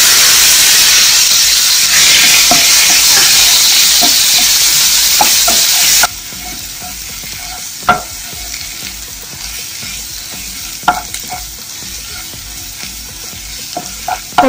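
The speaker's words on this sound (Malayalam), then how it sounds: "നമുക്ക് ഇതിലേക്ക് ചതച്ചു വെച്ച ഉള്ളി മുളക് വെളുത്തുള്ളി ഇതിട്ട് കൊടുക്കാം" Crushed onion, chili and garlic hit a hot pan with a loud, steady sizzle and hiss, settling quieter after a few seconds while a spoon stirs with occasional scrapes and clacks; no one speaks.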